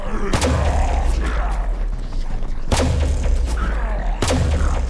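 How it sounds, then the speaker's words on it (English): Three sharp, loud impact cues from shooting lights in a WW2 zombies game, with quick decaying tails, spaced evenly over a steady low rumble, each a punchy game-like shot sound. "You should hear an audio cue each time you shoot a light"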